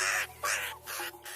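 A crow caws four times in a steady rhythm, harsh rasping calls that are fairly close and clear, with quiet background hum and no talk.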